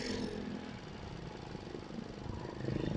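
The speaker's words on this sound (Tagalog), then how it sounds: "kung maingay po yung aking motor" A motorcycle engine runs nearby with a rough, low, steady drone that swells slightly toward the end, heard alone without talk.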